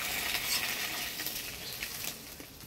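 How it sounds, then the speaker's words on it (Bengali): Foli fish sizzle as they fry in a pan, a continuous bright crackle with soft spattering that carries on alone and eases slightly toward the end. "মাছ সব ভাজি নিলাম, এবার নামিয়ে দিব।"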